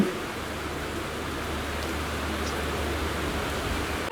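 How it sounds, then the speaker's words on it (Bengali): Heavy, sudden rain pouring down steadily, a dense continuous wash of noise that fills the whole stretch without pause and with no voices. "দেখো কি জোর বৃষ্টি এসে গেল এখানে।"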